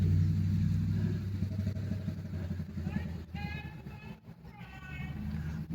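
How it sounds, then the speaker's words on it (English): A truck's engine rumbles low and fairly close as it passes behind a man outdoors, its heavy drone fading through the clip while faint voices and whistling-like tones rise. "That truck that was behind me"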